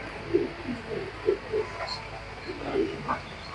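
A racing pigeon coos in a few soft, low bursts spaced across the moment, fairly close, with faint background noise between calls.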